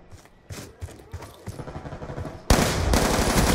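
Gunfire in Call of Duty: Black Ops 2 on Xbox 360, scattered shots at first, then a loud, sustained automatic burst in the final second.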